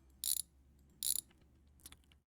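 Ratchet wrench loosening car frame bolts in the My Garage game, heard as two crisp bursts of rapid clicking followed by a fainter third burst, close and alone over a low background hum.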